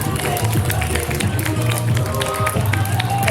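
An audience at a Miss Euroregion pageant show applauds with dense, steady clapping that fills the room, loud and sustained, with some voices mixed in.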